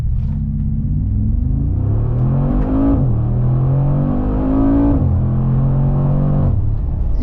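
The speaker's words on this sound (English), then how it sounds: "let's go ahead and floor the 2022 AMG G-Wagon" A 2022 Mercedes-AMG G-Wagon with around 600 horsepower under full throttle, its engine roaring loud and close from inside the cabin, climbing in pitch through several gears with brief dips at each shift.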